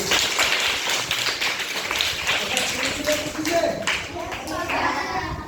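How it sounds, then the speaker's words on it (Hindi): A class of children claps in a classroom, a steady, fairly loud patter of many hands that continues with a voice speaking over it. "अब ताली बजाइए"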